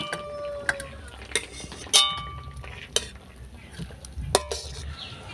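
Boiled potatoes being lifted out of a pot into a bowl, giving sparse sharp clinks of a utensil against cookware with soft scraping between them, close and clear with no talk.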